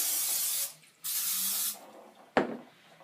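Two short hissing bursts of cooking spray onto a waffle iron, close by, followed by a brief clatter.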